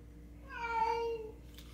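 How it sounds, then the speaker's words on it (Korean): A single drawn-out cat meow, wavering and fairly clear, rising and then trailing off over a quiet background, while another cat receives fluid treatment. "정작 주사 맞는 고양이는 가만히 있는데 용병은 다른 고양이가 지금 타령을 하고 있습니다"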